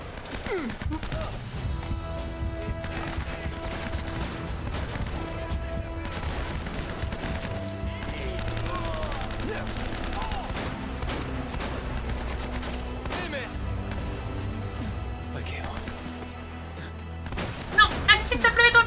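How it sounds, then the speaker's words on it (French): Gunfire in the Uncharted video game: sustained bursts of rapid shots and heavy booms blended with loud game music and effects, constant and dense, ending in a sharper cluster of blasts. "Il a tiré 2 fois sur son pote."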